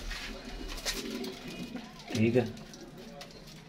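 Pigeons at a breeder's loft in Faisalabad give a low, brief coo in the middle, under someone talking throughout with faint bird calls behind.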